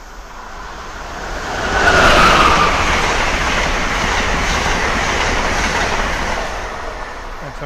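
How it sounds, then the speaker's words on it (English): An Amtrak ACS-64 electric locomotive leads a train past Croydon station, a loud, steady rush of wheels and rail noise that swells near the two-second mark and holds before easing slightly. "Here we go, Amtrak ACS 64."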